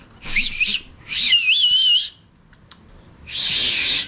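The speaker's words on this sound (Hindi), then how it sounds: "टंग को भी हम लोग मैनिपुलेट करके सीटी बजाते हैं ना" A person whistles using the tongue, producing three close, breathy bursts, one carrying a clear wavering tone, separated by short silences.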